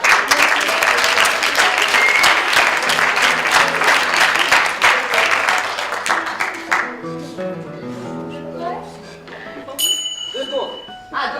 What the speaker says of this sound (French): Je vous demande de les applaudir pour les encourager.